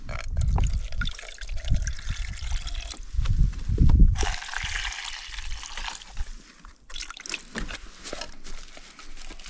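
Water pours and splashes into a container of dehydrated rice and backpacking meal, a steady trickling fill with some bubbling and clatter, close by, no talking.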